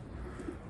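Damascene pigeons kept in a loft in Berlin, including an Egyptian red, give a short, low, soft coo, close by, with no talk.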